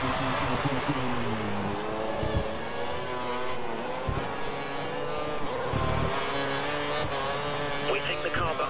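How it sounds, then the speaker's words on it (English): An F1 race car at full revs in the F1 2013 game at Silverstone, a loud sustained high engine whine with shifting pitch and brief gear-change dips, under a commentator's voice. "We think the car behind is running on full revs."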